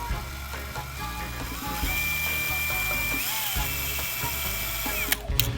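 A drill turns the speedometer gauge from a 1967-72 Chevrolet C10 as a stand-in for the transmission speedo gear, producing a steady whirring and ratcheting mechanical buzz with a rising tone, ending in a few sharp clicks.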